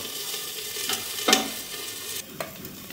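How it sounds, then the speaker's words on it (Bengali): Onion, garlic and ginger frying gently in oil in a home kitchen pan, a steady soft sizzle with brief stirring scrapes and clatters rising over it, close and moderately loud, no talk. "আমি এখন আস্তে আস্তে করে পেঁয়াজ, রসুন, আদাটা দিয়ে দিচ্ছি তেলের মধ্যে, হালকা করে ভেজে নেব"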